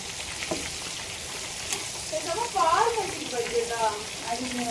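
KFC-style chicken fries in bubbling oil, giving a soft, steady hiss and crackle. A brief voice-like murmur rises midway over the sizzle.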